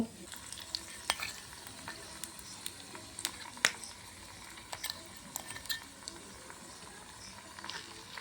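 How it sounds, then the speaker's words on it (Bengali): Onion paste sizzles quietly in hot oil with a low crackle and scattered soft clicks and stirring scrapes, no talk. "আমি এবার তেলের মধ্যে পেঁয়াজ বাটা দিয়ে দেব।"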